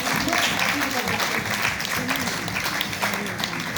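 Audience applause at an international Hindi conference, a dense wash of clapping filling the hall at a steady level, with voices faintly mixed underneath.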